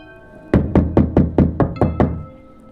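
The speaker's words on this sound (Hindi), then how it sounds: "अचानक बाहर से खटखट की आवाज़ आती है।" Seven firm knocks on a door from outside in quick, even succession, loud and close, with no voices over them.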